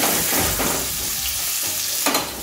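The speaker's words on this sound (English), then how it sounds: "we're going to lightly brown the flounder on both sides, about 2 minutes on each side" Flounder fillets browning in a pan of oil and butter give a steady, close sizzle and crackle of frying, with faint stirring or shifting in the pan and no voices.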